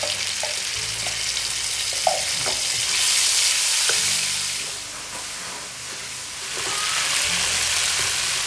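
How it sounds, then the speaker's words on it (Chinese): Chili bean paste and hot pot base stir-fry in oil in a wok, with a loud hissing sizzle that swells and fades in waves, punctuated by clacks and scrapes of stirring, heard close with no speech. "炒出红油加水"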